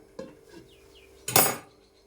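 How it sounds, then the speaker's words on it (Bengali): A metal lid is set onto a pot of ghugni, with a light clink followed by a louder, bright clatter as it settles, close and isolated with no talking. "তার জন্য আমি ঢাকা দিয়ে দিলাম"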